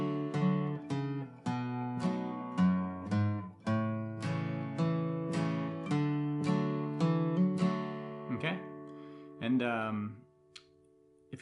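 Acoustic guitar plays the Rolling Stones' "Sweet Virginia" intro riff across four measures with hammer-ons, clear plucked notes ringing in a steady rhythm, close and alone, ending with a brief string squeak and a final sustained chord.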